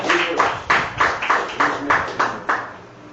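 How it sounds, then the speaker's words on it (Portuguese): Congregation in a church clapping in unison, about eight strong, evenly spaced claps over three seconds, close and moderately loud, with the rhythm fading at the end. "Aplauda ao Senhor Jesus."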